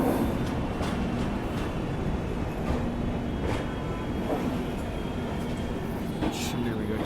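The Prayagraj Rambag–Howrah Vibhuti Express rumbles steadily into Kashi railway station, with rhythmic clacks and rattles over a dense background roar, while faint voices murmur.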